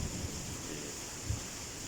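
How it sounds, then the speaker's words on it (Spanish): Heavy rain pours over the city of Monterrey, Mexico at dawn, a steady dense wash of rainfall with no voices, broken by a faint low rumble. "nos ha bendecido con una abundante lluvia que se está derramando en este momento sobre esta ciudad"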